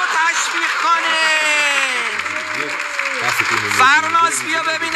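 Audience clapping for Farnaz as she is called up on stage, a steady wash of applause under loud talking voices for the whole stretch.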